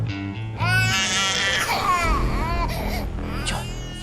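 A baby cries loudly and close by in rising, wavering wails, with a few short breaks between sobs.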